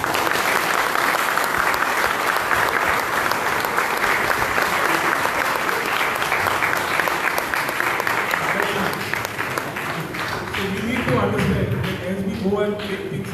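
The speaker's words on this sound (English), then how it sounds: "I can still remember the sound of that clap was louder than your clap" A crowd at a cooking competition prize distribution gives sustained, loud applause that gradually thins out, with a voice starting to speak near the end.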